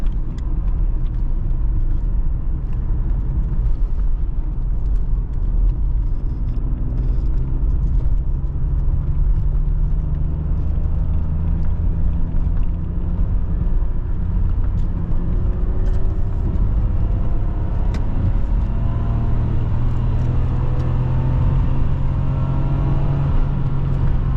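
A BMW E34 520i 24V fitted with a 25i exhaust cruises at low RPM, its engine a steady, smooth low drone with a soft tonal hum that rises gently in pitch at times, heard close and continuous with no talk.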